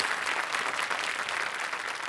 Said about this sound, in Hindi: तालियों के साथ हम आपका स्वागत करते हैं।